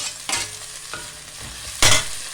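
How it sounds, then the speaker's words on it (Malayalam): Chopped onions hitting a hot frying pan for a chicken curry, giving two or three bursts of sizzling with stirring scrapes between them, close and fairly loud, with no talk. "അപ്പോൾ ഇതിന് നമുക്കിനി സവോളയും കൂടെ അരിഞ്ഞ് വെച്ചേക്കുന്നത് അതിലേക്ക് ഇട്ട് കൊടുക്കാം."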